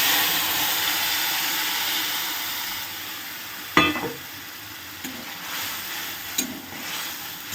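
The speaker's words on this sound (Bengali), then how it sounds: "এবার আমি দিয়ে দেবো এই পেস্টটা" Mustard paste for shorshe ilish hits hot oil in a pan over a low flame, a steady close sizzle with a sharp burst as it goes in, then scraping stirs and small clinks of the utensil.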